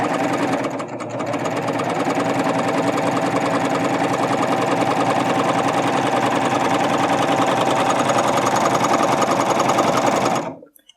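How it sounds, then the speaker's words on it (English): A Babylock Ovation sewing machine runs steadily while stitching a single row, producing a fast, even mechanical chatter close by for about ten seconds before stopping abruptly. "So I'll do 1 row of stitching there to show you."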